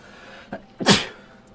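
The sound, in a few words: violent sneeze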